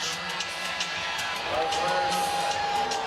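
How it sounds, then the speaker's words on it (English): Basketball arena crowd at a WNBA game, Atlanta Dream vs Los Angeles Sparks, reacting to an offensive foul call with a sustained roar and whoops, loud and continuous, a steady pitched tone rising midway. "Crowd doesn't like it."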